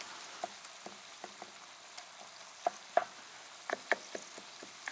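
Picnic beans cook in a greasy pan at a basecamp, giving a soft, constant sizzle dotted with small pops and crackles. No voices.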